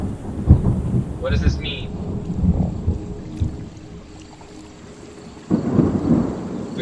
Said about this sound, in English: I hear thunder.